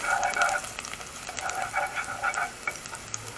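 Garlic frying in a pan while being stirred, a steady sizzle with scraping spoon strokes in short repeated passes, close and moderately quiet.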